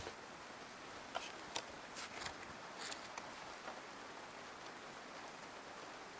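Steady rain hissing down in the video game DayZ, with occasional sharper drips and taps standing out from the constant wash.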